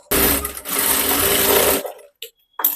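A sewing machine stitches along a blouse armhole in one close, rapid run of nearly two seconds, then stops, leaving a few faint handling clicks.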